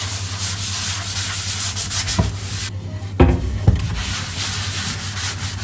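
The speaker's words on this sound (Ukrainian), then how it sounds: "Беремо миючий засіб і змиваємо звичайним миючим засобом дошку." A wooden cutting board scrubbed with ordinary dish detergent makes a steady, close rasping rub that runs nearly the whole time, broken by a brief pause and a couple of sharper knocks near the middle.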